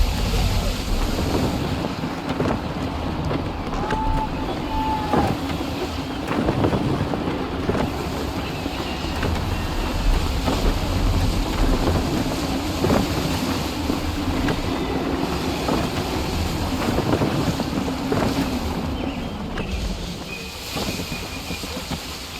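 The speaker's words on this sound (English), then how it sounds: "Gusty winds can be difficult to manage." Gusty wind blows across a sailing ship at sea in the video game Assassin's Creed 3, a continuous rushing, buffeting roar with water wash beneath it and faint voices now and then.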